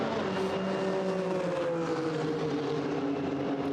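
A GT4 race car crosses the finish line at Monza during a GT4 European Series race, its engine a steady, sustained drone with a slowly falling pitch, fairly distant with no talk over it.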